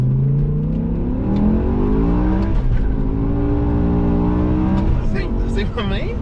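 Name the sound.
BMW M6 V10 accelerating with wheel spin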